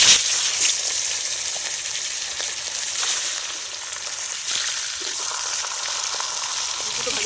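Hilsa fish heads fry in hot oil in a pan, giving a dense, even sizzle close to the listener. The sizzle holds steady throughout with no speech.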